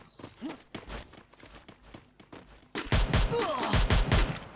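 Gunfire in the Free Fire battle royale game during a ranked match, starting with scattered light taps and footsteps, then turning into loud dense bursts of shots in the second half.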